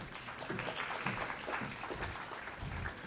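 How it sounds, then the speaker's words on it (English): Applause from an audience at a long service awards ceremony for an honoree, a continuous wash of clapping hands from many people, moderately distant and steady throughout without voices. "please give it a round of applause for Sheldon Lynch"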